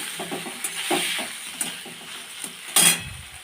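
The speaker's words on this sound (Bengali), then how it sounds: "পনিরটা আগে একটু হালকা ভেজে নেব" Paneer fries lightly in a pan with soft sizzling and hiss, punctuated by a few scraping stirs of a utensil and one sharper clink near the end.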